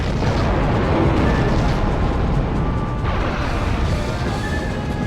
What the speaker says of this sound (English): Well, that was the cannon, but it seemed like it fired everywhere else except me